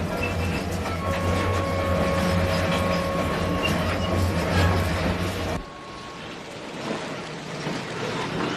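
A train rumbles past up close with a steady, loud clatter and drone, then drops off abruptly to a quieter hum.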